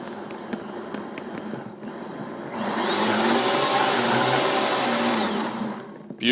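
A Vitamix XL blender switches to regular speed while blending pico de gallo from tomatoes, starting as a low churn and rising to a loud, steady whirring roar that holds for several seconds, with no talking.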